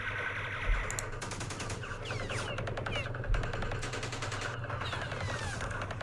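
Gunfire in the Campaign Series Vietnam wargame rattles in rapid, continuous bursts of shots under a low battle rumble, with a couple of heavier thumps.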